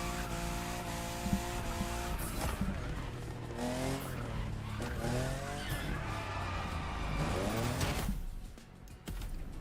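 Racing car tires squeal continuously as a car drifts in The Crew Motorfest, with the engine droning underneath and the screech rising and falling before tapering off near the end.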